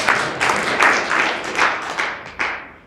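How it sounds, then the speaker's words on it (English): A lecture audience at a talk on ethics and non-theism breaks into applause, a dense wash of clapping that swells in loose pulses and fades toward the end, with no talk over it. "Let's give a round of applause for that."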